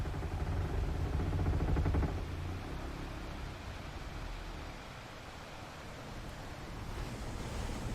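Continuous ocean waves and surf wash steadily as sea ambience in a Frosthaven board game playthrough, loudest at the start, easing slightly, then swelling again near the end with no talk.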